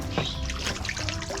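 Water is poured outdoors in hot weather, probably into a bath set up in the back of a pickup truck, a soft splashing trickle over a steady wash of background noise.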